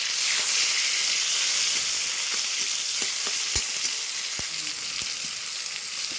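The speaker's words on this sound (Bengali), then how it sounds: "প্রথমে তেল দিয়ে দিলাম, তারপরে দেব টমেটো কুচি" Chopped tomatoes frying in hot oil for a prawn curry, a loud, continuous close sizzle and hiss with a few soft clicks of utensils, no talk.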